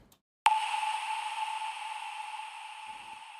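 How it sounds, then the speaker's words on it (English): A pluck sample from Sounds of Kashmir sounds one sharp attack after a brief silence, then rings on as a bright sustained tone that slowly fades, heard alone. "And then I have this pluck sound which sounds like this."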